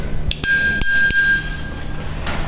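A bicycle bell bought from the online shop Temu is rung close by, a bright metallic ding with a long ringing tail after a couple of quick strikes, with no talking.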